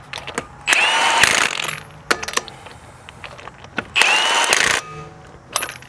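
A ratchet tightening lug nuts on a wheel during a rotor replacement, two loud bursts of rapid whirring clicks separated by shorter ratcheting strokes and handling clatter, close up with no talk.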